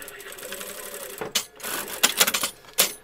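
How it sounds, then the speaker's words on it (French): A sewing machine stitching the edges of a zipped triangle pouch, heard as several short bursts of rapid mechanical clatter that stop and start, with a quieter stretch before them. "Et puis vous allez coudre les arêtes, hein, tout simplement."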